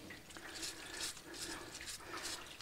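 Water rinses sand out of wheel bearings for balloon tires, heard as close splashing and trickling in uneven bursts over a few seconds at low level.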